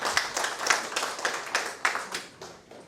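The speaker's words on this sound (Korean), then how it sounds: "박수 한번 보내주세요." Clapping from an audience at a lecture forum at the National Assembly Constitutional Hall in Korea, a few seconds of moderately loud, uneven claps that thin out toward the end.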